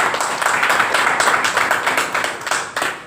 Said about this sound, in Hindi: सबसे पहले तो शिवसेना के लिए एक बार जोरदार वाली तालियां हो जाए।